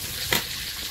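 Dried red chilli, bay leaf and whole cumin hitting hot oil in a pan for Bengali dal, a short crackling sizzle burst that fades into a low steady frying hiss, heard alone.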